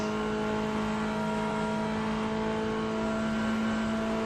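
Corvette GT3 race car engine in a racing video game of the 24 hours of Daytona, a steady sustained drone holding a constant pitch at high revs, loud and continuous throughout.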